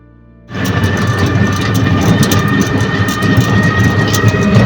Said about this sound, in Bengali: এ হচ্ছে মুর্শিদাবাদ রেল স্টেশন